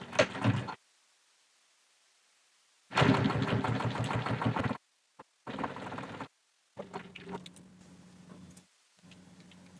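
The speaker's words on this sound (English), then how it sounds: "reverse stitch first" A sewing machine runs a reverse stitch at 4.5 stitch length, starting inside the fabric, in short rattling bursts of rapid needle ticking separated by pauses, fairly close and clear.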